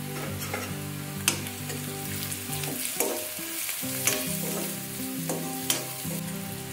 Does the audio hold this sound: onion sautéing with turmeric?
yes